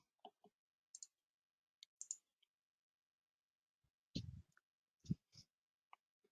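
A computer mouse clicks the process button in accounting software, with several sharp, quiet clicks spread across a few seconds and brief silences between them.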